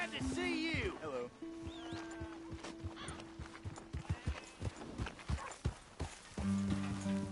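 Horse hooves clip-clop steadily in the Western open-world game Red Dead Redemption 2, close and rhythmic, with a whinny and spoken lines over the top and a sustained musical drone underneath.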